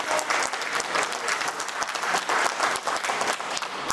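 A large audience at a religious gathering bursts into sustained, dense applause, many hands clapping steadily and loudly for several seconds with no pauses.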